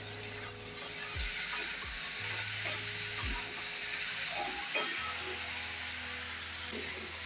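Carrots and potatoes sizzle softly in a pan with salt, under a continuous low frying hiss broken by a few scraping stirs of a spatula.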